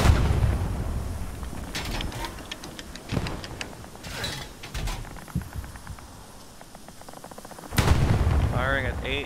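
Artillery gun in the World War II shooter Hell Let Loose, firing heavy booming shots amid rapid crackling gunfire and distant explosions, with a loud blast near the end and voices talking under the battle noise.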